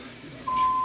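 A gas detector for carbon monoxide and LP gas gives one sustained electronic beep that starts partway through and holds steady to the end, clear over quiet background hiss.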